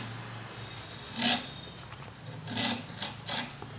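Peeled citron (narthangai) being cut into long pieces, heard as a few separate rasping knife strokes through the firm fruit against a board, close and fairly quiet with pauses between cuts.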